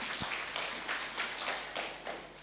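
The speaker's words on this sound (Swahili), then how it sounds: "Tumpigie chair makofi mazuri" Faint applause from a congregation at a memorial celebration of life greets the chair, heard as a soft, fairly even series of claps with a distant, roomy feel and no voices.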